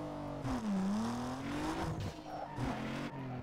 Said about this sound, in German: es ist wieder ein Downhill-Drift